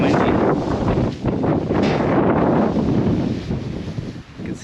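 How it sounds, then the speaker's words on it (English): Strong wind gusts roar steadily across the microphone near a mountain top above the treetops on the Vermont Appalachian Trail, loud and continuous with brief lulls. "And it's gotten windy."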